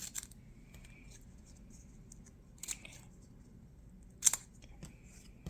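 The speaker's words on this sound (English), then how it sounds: "you can cut in between like that, and then you can just trim them down." Scissors snipping paper tiles, a few quiet separate cuts spread across a mostly hushed stretch, with one sharper snip near the end.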